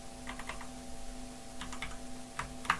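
Someone types on a computer keyboard while coding, producing quick bursts of soft, close key clicks separated by short pauses.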